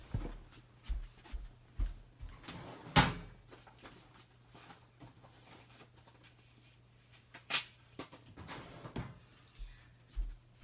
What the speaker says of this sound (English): I'll have to grab some here in a minute out of my drawer.